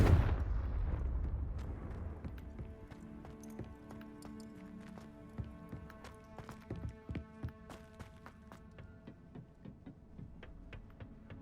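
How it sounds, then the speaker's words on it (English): A loud blast opens the moment a Confringo explosion spell is cast in Hogwarts Legacy, decaying into a rumble while scattered crackles and clattering hits follow under game music. "Confringo!"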